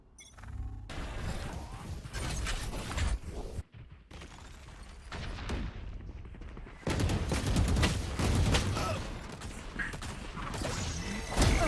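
Rapid bursts of gunfire from the Sheriff pistol in a competitive Valorant-style shooter match, sharp cracks repeating across several seconds amid game effects and crashing impacts, loud and close.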